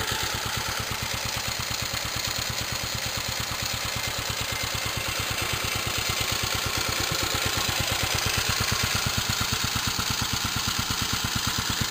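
A J.A.P. Model 5 stationary engine runs sped up after warming, its close, loud, steady chugging beat firing rapidly and evenly throughout with a mechanical clatter and no voices.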